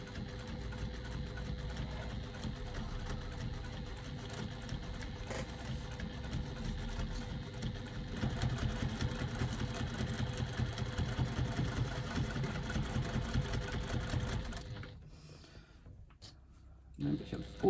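A sewing machine stitches a fabric bag at a just-under-3 stitch length, whirring in a steady fast mechanical run for most of the time before stopping, with someone talking over it.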